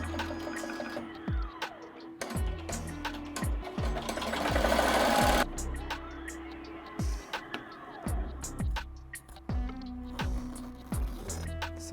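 An embroidery machine stitches an appliqué design with rapid rhythmic needle thumps and mechanical whirring, pausing briefly between runs, heard close and alone with no talk.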